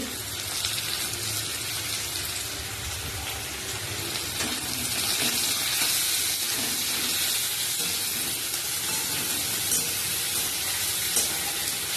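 Cauliflower frying in a pan with chopped capsicum and a pinch of salt for a Bengali vegetarian cauliflower, potato and paneer dish, giving a continuous loud hissing sizzle that stays steady throughout, with no voices.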